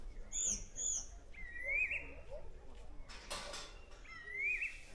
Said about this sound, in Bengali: এই পাহাড়ে দাঁড়িয়ে পুরো নিস্তব্ধ জায়গায়